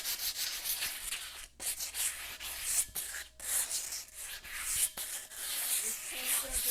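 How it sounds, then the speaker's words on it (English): Painted car part, likely a drive shaft, scuffed up in a garage, with rough continuous rubbing and sanding strokes close by, broken by brief pauses and faint background voices. "We're just scuffing it up a little bit"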